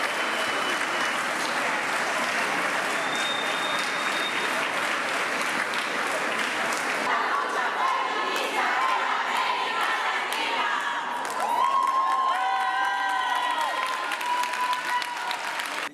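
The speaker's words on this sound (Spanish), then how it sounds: "Varios de los activistas lanzaron consignas contra los condenados y volvieron a aplaudir" A courtroom audience in Guatemala applauds while activists chant slogans, sustained clapping mixed with shouted cheers and rhythmic chanting voices, loud and crowded throughout.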